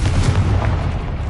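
A Confringo blasting spell goes off in a video game, a loud, broad booming blast with a heavy low rumble that carries through the whole moment with no speech over it.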